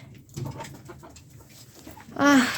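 Hens and roosters cluck softly in short bursts in a country backyard, then a rooster's call rises loudly near the end, close by.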